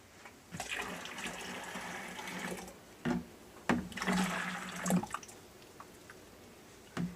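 Water poured into a blender for keto horchata: a steady splashing, gushing pour with a few sharper sloshes and clunks midway, close and fairly loud, with no talking.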